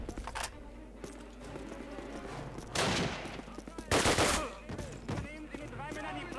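Gunfire in the video game Call of Duty: repeated bursts of shots with two loud blasts, over a steady game soundtrack background.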